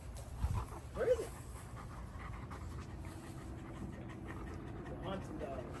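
A 125 lb Euro Doberman pants steadily up close through most of the stretch, a continuous breathy rhythm with a few brief whimpery sounds early on.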